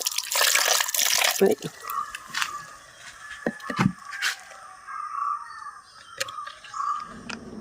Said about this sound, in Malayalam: ഞാൻ ഇത്തിരി വെള്ളം ഒഴിക്കുന്നുണ്ട്.